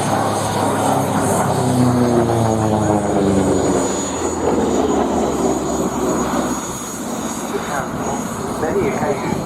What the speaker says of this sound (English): P47 Thunderbolt.